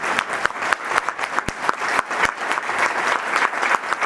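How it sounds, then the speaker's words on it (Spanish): An audience applauding at a live talk, dense continuous clapping at close range for a few seconds with no voices over it. "me merezco un aplauso"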